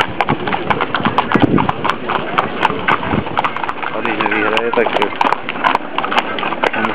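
Racehorse hooves clip-clop at a steady walking pace at the Slušovice racecourse after a race, loud and close, continuing under an announcer's voice over a loudspeaker.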